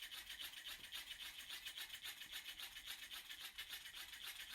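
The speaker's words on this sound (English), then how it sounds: "use the drill. We're going to twist." A power drill twists embroidery floss into cord, producing a steady, close rubbing rasp with a quick, even pulse that runs unbroken throughout.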